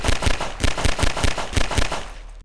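Rapid pistol shots from the Half-Life 2 video game ring out about a dozen times in quick, slightly uneven succession, loud and punchy, then cut off abruptly.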